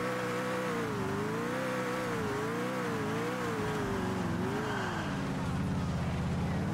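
Car in the video game GTA IV driving with a wavering engine drone and skidding, squealing tires, steady and close throughout.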